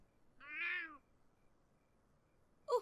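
A cat in The Sims 4 gives a single clear meow, followed after a pause by a brief second short cat sound, over quiet background.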